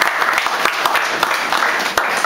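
A church congregation applauds to acclaim the Lord, dense rapid clapping from many hands throughout, loud and close with some voices mixed in.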